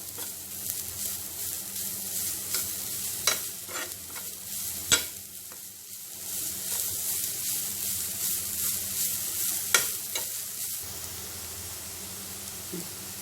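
Stirring a sweet mashed banana and sugar mixture in a pan for Malabar unnakkaya, a soft sizzle and hiss under steady scraping strokes with a few sharper clinks of the spoon against the pan.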